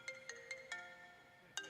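A phone ringtone goes off early in the morning, repeating a bright electronic tone in short regular pulses of rising and steady notes, then a final louder chirp; fairly quiet with no talking.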